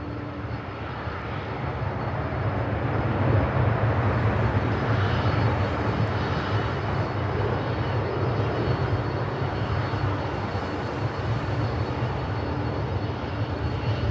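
A Delta 767-300ER jet at LAX airport gives off a broad, steady engine roar that holds at an even loudness throughout.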